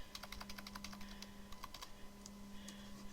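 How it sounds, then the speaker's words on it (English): Rapid typing on a computer keyboard, a steady run of quick close key clicks with a faint background hum, growing sparser toward the end. "So I'm going to type here the text."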